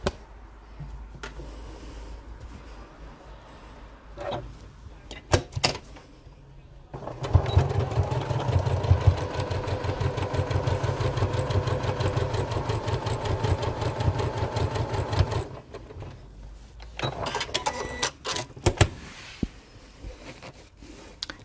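A sewing machine runs steadily for several seconds, rapidly stitching down a fabric tool wallet, with quieter handling sounds before and after and a voice speaking around it.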